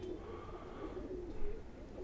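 A khaki pigeon coos softly and low in a continuous murmur, close but faint, with no voices over it.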